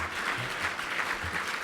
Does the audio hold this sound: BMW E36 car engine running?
no